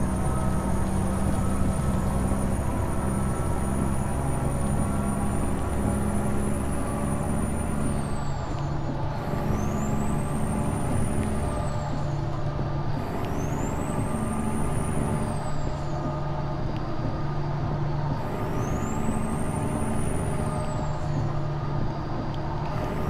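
American Truck Simulator truck with a modded Cat C15 engine sound cruises steadily, its deep diesel drone continuous and loud, with a high whine that repeatedly sweeps up and falls away at regular intervals, no talking.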